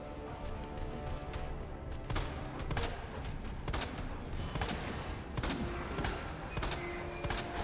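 Gunfire in a video game boss fight, bursts of sharp shots and impacts repeating through a dense, loud battle mix, no talking.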